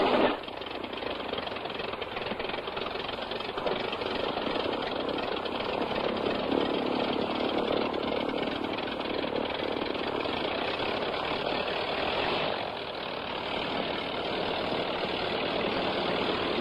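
A Tiger Moth biplane's engine runs at idle after starting, a continuous loud, rough mechanical drone that holds steady throughout with no voices.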